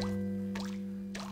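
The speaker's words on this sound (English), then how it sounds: "I'm gonna need something really big to catch all the big drips." Water drips plop into a nearly full saucepan, a few separate drops landing over a steady low hum, fairly near and quiet, with no one speaking.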